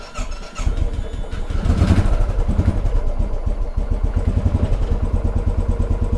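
A cold, fuel-injected used motorcycle cranks briefly and fires up, settling into a close, steady, pulsing idle that stays loud with a rhythmic engine throb.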